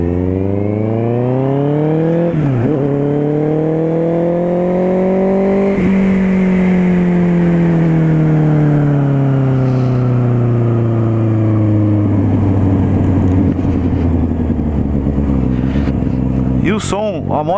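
A Honda CB650R motorcycle with a sport exhaust revs up and down repeatedly with a deep, throaty exhaust note, loud and close throughout.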